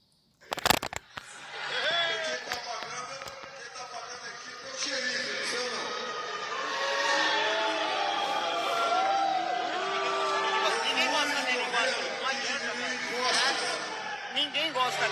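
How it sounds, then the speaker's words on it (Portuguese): A large outdoor crowd in Guarulhos booing Bolsonaro, a sustained roar of many voices with shouts and whistles rising and falling, preceded by a few sharp bangs at the start. "Vou te mostrar aqui o vídeo das vaias que aconteceram e da vergonha aí que passou o Bolsonaro."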